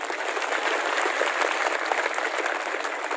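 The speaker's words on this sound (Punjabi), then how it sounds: "ਤਾੜੀ ਮਾਰੋ ਖੁੱਲ ਕੇ" A crowd at a farmers' rally claps steadily, a dense, even burst of applause that holds for several seconds without pause.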